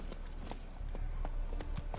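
Horse hooves galloping in The Witcher 3, a brisk repeated clip-clop rhythm of hoof strikes over a low rumbling ground noise, steady and fairly close.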